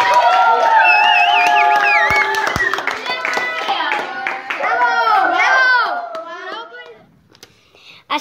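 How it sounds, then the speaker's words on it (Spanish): A fifth-grade class claps for a debate group on a school radio programme, a dense burst of hand clapping mixed with children's voices and cheering that fades out near the end. "un aplauso muy grande para este grupo de debate"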